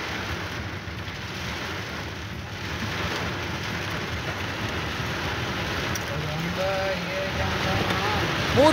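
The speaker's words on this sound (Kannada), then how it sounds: "ರಾಜಧಾನಿ ಬೆಂಗಳೂರಲ್ಲಿ ಮಳೆಯಾಗಿರುವಂಥ ದೃಶ್ಯವನ್ನು ಗಮನಿಸ್ತಾ ಇದ್ದೀರಿ" Steady rain falls on the Indiranagar Outer Ring Road area of Bengaluru, a continuous moderate hiss with faint traffic noise underneath.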